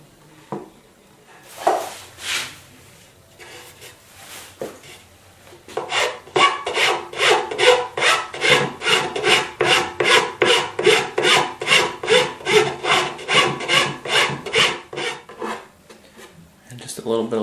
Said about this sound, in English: just a little bit of light cleanup with the file